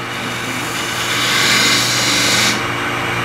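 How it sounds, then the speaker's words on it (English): A beading and parting tool, bevel rubbing, cuts a spinning wooden workpiece on a lathe, giving a steady loud hiss and scrape that swells mid-cut and eases off, with the lathe hum running underneath and no talking. "Beading and parting tool. This is a bevel rubbing tool."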